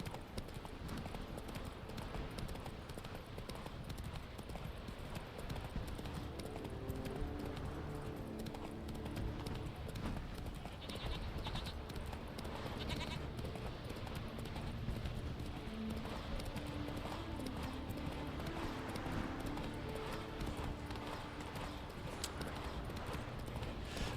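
Roach the horse galloping in The Witcher 3 on PS5, a continuous rhythmic clip-clop of hooves under game ambience, steady and fairly close throughout.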